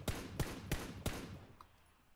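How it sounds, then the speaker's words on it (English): Four evenly spaced gunshots ring out in PUBG, sharp and punchy at a steady rhythm, then a faint tail of echo fades away with no talk over them. "We should shoot him right now."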